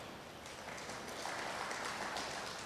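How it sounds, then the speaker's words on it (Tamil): An audience applauds steadily at a Tamil humorous speech by Manikandan. The clapping is a dense, even patter, moderately loud, with no voices over it. "இது எனக்கு இல்லை கைத்தட்டு, அந்த எழுத்தாளனுக்கு."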